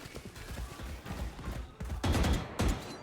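Gunfire in Valorant during a VCT 2024 Pacific Kickoff match between Talon and Team Secret, a scattered series of shots building to a couple of loud close bursts near the end.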